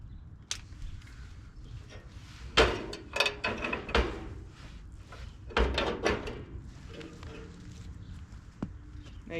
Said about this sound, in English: What we'll do here is open this door.